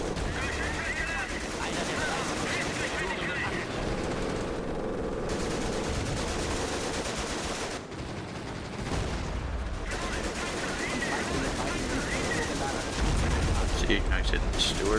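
Machine gun fire rattles through a Company of Heroes Blitzkrieg battle in a forest, with steady dense gunfire and battle noise running the whole way and someone talking over it.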